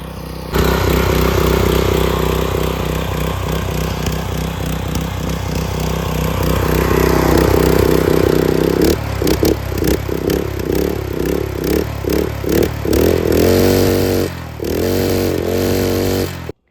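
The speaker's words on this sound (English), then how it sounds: "I tried to pull it over to like get the oil circulated throughout the engine, and it started" A 208cc Briggs & Stratton small engine, swapped into a 1983 Suzuki ALT125, runs steadily and loud, then sputters and surges unevenly with rhythmic revving pulses near the end.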